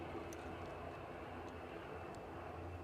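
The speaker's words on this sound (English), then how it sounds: "We'll go with the EasyJet that's rolling" An EasyJet airliner rolls along the runway at Edinburgh airport on a gusty day, its engine noise a faint, steady distant drone with a few brief higher clicks, no talking.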